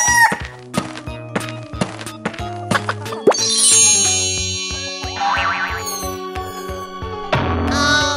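Cartoonish chicken sounds in a children's animal game: bouncy boing-like clucks in a quick rhythm, then a long, loud crow, with synthetic music-like tones throughout.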